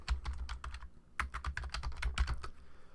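Keys clack on a computer keyboard in quick, close bursts of taps, with a short pause in the middle before another run of keystrokes, quiet and without talk.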